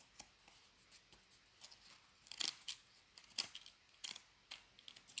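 Corrugated cardboard is trimmed for tag clips with a series of sharp, crisp snips. The cuts come at irregular intervals, close and fairly quiet against a soft background.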